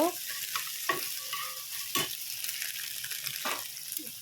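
Chowmein stir-frying in a pan with egg, onion, green chilli and tomato, a constant sizzle broken by several distinct scrapes and clatters of the spatula against the pan; no talking.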